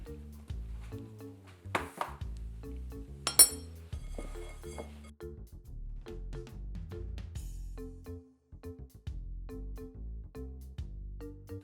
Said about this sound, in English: I'm going to mix this by hand now, which is so much more fun